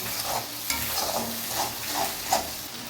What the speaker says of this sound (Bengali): মশলার মধ্যে আমরা পরিমাণ মতন হলুদ, পরিমাণ মতন লবণ দিয়ে আমরা মশলাটাকে কষিয়ে নেব